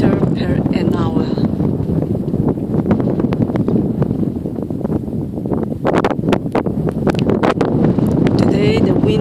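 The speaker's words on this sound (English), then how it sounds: "Today the wind is blowing very strong." Strong wind buffets the microphone during a horseback ride in Mongolia, a loud continuous roar with gusty rustling throughout, while someone speaks over it.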